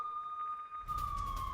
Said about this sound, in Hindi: लवीव में लगातार बज रहे हैं खतरे के सायरन